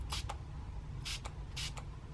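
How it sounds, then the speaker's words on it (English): MAC Fix Plus cucumber setting spray is spritzed onto a makeup brush in three quick, close bursts, each a short hiss with a fainter follow-up puff, quiet and with no talking. "So what I'm just going to do is spritz my brush with this."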